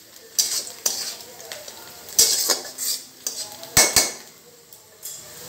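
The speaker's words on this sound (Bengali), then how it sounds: "সবজিগুলো দিয়ে একটু নাড়বো।" Vegetables being stirred in a pan for vegetable pasta: sharp, irregular metal clinks and scrapes of a utensil against the pan ring out close and loud over a faint sizzle, with no talking.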